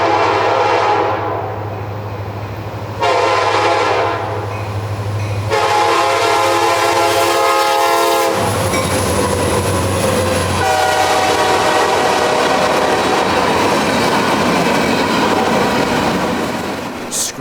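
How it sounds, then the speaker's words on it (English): A CSX freight train led by SD70 diesel-electric locomotives passes close through trees, its horn blowing loud sustained chords over the heavy engine roar, followed by rolling wagon rumble and wheel clatter. "Screaming through the trees with that raw diesel-electric power."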